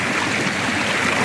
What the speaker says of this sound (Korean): 마음을 조금이라도 쉬었다 갈 수 있도록 놓아주는 이 물소리가 마냥 반갑고 기다려집니다.